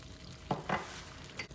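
Chiles and garlic fry in a pan, with a soft continuous sizzle and a couple of brief stirring scrapes and clinks, fairly quiet overall.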